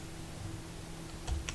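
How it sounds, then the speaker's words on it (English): Keyboard shortcut keys pressed on a computer while labels are toggled in indexing software, two quick clicks close by near the end after a quiet stretch with a faint steady hum. "You can also apply them with the keyboard by Control 1, Control 2, Control 3, and so on."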